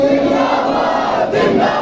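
A large crowd at a religious conference in Khewra, Pakistan, chanting the slogan Tajdar-e-Khatm-e-Nabuwwat in unison, a loud, sustained roar of massed voices.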